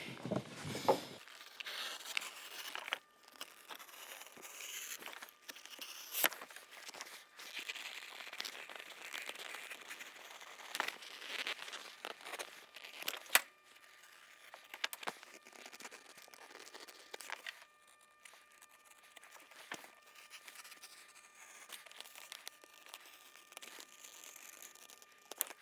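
Material being cut for a saddle tree jig, likely with a saw or knife: a steady crinkling, rasping cut that runs continuously for about 25 seconds at moderate level with small bumps, close by, no talking.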